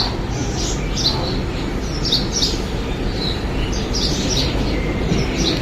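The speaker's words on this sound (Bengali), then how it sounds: "শোনা যাচ্ছে পাখির শব্দ" Birds chirp and tweet on a winter morning with light sun, repeated bright calls scattered over a steady low background rumble, no talk.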